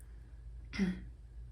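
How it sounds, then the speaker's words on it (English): One short throat clear, close and fairly soft, in an otherwise quiet room. "I'm like clearing my throat"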